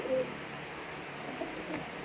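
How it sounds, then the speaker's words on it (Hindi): Teddy pigeons, a rare bred fancy pigeon variety, coo softly amid steady background noise, with a brief call near the start and another faint one later, no talking. "आज यहाँ पे मैं आपको दिखाऊंगा मियाँ साहब वाले टेडी कबूतर"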